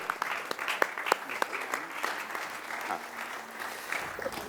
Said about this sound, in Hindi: सिर्फ 15 लोग तालियां बजा रहे हैं